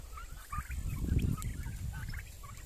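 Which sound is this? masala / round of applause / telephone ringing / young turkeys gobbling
young turkeys gobbling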